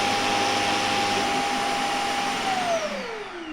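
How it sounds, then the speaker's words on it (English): A Shark EZ robot vacuum's self-empty dock runs a strong, steady suction whine with a high tonal hum that drops in pitch as it winds down near the end. "you hear like the vacuum part kicking on"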